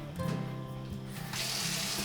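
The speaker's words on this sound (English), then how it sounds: "I'm gonna strain it out and then put cold water on them right away" Cold tap water streams onto strained ramen noodles in a kitchen sink, a steady splashing gush that grows louder and brighter partway through, with a faint background hum.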